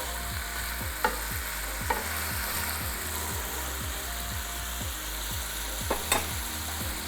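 Mushrooms frying in a pan, a steady sizzle with regular scraping and stirring strokes in a quick rhythm and a few sharper clinks, close and fairly loud with no talking.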